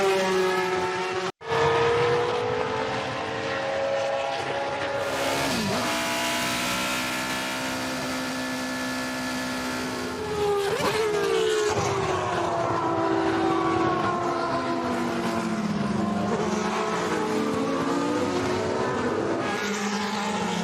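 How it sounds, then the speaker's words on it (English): Touring race cars launch from a standing start with Rob Huff on pole, a loud, continuous roar of many engines with rising and shifting tones as the pack accelerates away close by. "Away we go, and it's a good start from Rob Huff from pole position"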